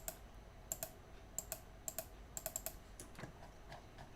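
Keys on a computer keyboard are pressed in short bursts, crisp close clicks arriving in small clusters and single taps over a quiet room.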